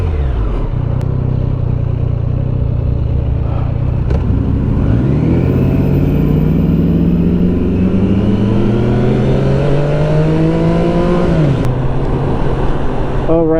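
A 2024 Triumph Street Triple RS motorcycle ridden on the road, engine droning steadily with rising and falling pitch as it accelerates and shifts, wind noise constant throughout.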